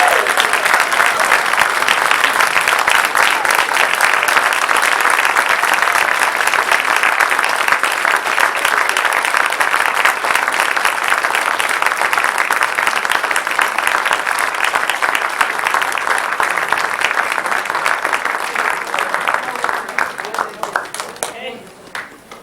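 Audience at a school board meeting gives sustained applause for an honored student: dense, loud clapping from a full room carries on steadily before thinning out and fading near the end.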